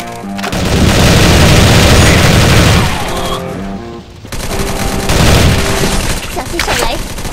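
Grenade blasts in the mobile shooter 全民槍戰 (Shooting Mobile): two loud, heavy booming bursts, each rumbling for a couple of seconds with a brief lull between, mixed with gunfire-like crackle.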